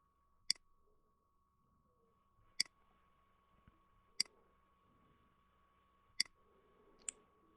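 Computer mouse and keyboard clicking in a quiet room, five sharp isolated clicks spaced about two seconds apart over a faint steady hum.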